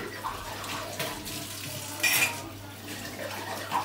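Dishes are washed under a running kitchen tap, with water streaming steadily and clinking, splashing bursts of handling throughout, close and fairly loud with no voices.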